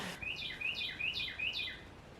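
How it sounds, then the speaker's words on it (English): A bird chirps repeatedly outside a window, a series of about five bright, evenly spaced calls in quick rhythm, moderately close and clear over a quiet indoor background. "This video brought to you by the annoying bird outside my window."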